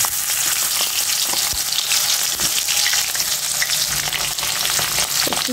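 Cut potatoes fry in hot oil with cumin, black cumin and pieces of cinnamon, a loud, close, continuous sizzle with occasional stirring knocks and scrapes and no talking.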